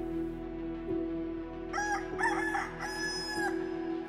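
Rooster crowing as a sound effect in a staged Passion play of the Way of the Cross: a drawn-out cock-a-doodle-doo in several rising and falling bursts over a steady low hum, moderately loud and with no talk.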